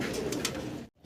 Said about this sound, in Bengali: রেন কবুতর ব্ল্যাক কালারের